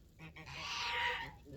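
A goose honks in one long, loud, drawn-out call, close by and alone, with a brief rougher note just before it.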